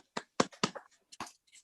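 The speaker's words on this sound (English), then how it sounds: "That deserves a round of applause." A few scattered claps ring out at a committee meeting, sharp and separate with short gaps of quiet between them.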